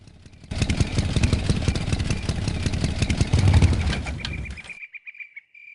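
A motorcycle engine in the game Full Throttle idles with a rough, throaty growl like a tiger, loud and pulsing for several seconds before cutting out abruptly into a few faint ticks.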